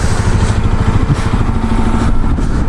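A Hero Xpulse 210 motorcycle engine idles loudly and close by in a steady, even mechanical chug with a light clatter, no voices over it.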